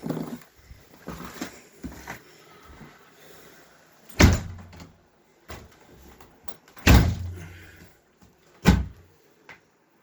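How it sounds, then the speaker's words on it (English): A lockable door on a tiny-home travel camper trailer is worked with several sharp clunks and bangs spaced through the stretch, close and loud, with quieter rattling and shuffling in between. "Lockable door."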